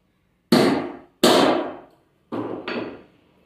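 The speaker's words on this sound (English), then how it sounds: "we'll hammer it a bit" A hammer strikes screws into PVC casing four times, loud and close: two separate blows, a pause, then two quick hits in succession.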